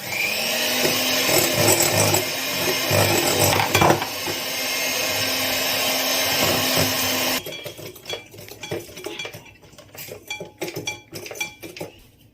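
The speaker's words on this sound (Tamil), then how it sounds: "மிக்ஸ் பண்ணிட்டு அதுக்கப்புறமா பீட் பண்ண ஆரம்பிக்கிறேன்." An electric beater whirs steadily as it beats sugar into cake batter for a homemade Britannia-style cake, a loud continuous motor drone with clinking against the bowl, then stopping partway to leave scattered clatter and knocks.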